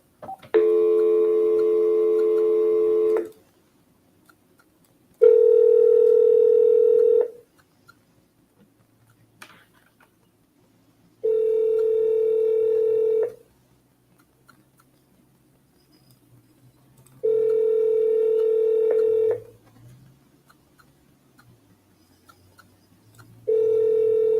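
An outgoing telephone call rings back through the handset during cold calling, five long even tones about two seconds each, separated by regular silent gaps, clear and close.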